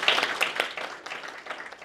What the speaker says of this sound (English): if you wouldn't mind joining me in a big round of applause